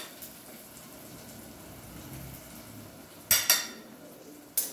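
A spoon clinks a few times against a bowl while mixing a garlicky spiced mixture of gram flour, chilli, lemon juice and sugar for stuffed capsicums, with sharp taps near the end over a quiet background.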